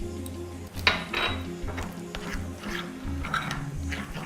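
A teaspoon stirs lemon glaze tinted with yellow edible gel in a bowl for dairy-free profiteroles. Close, rhythmic scraping and clinking of metal against the bowl repeat several times.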